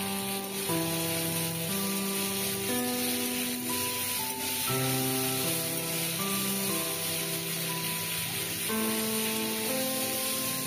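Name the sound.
potatoes frying in oil with salt and turmeric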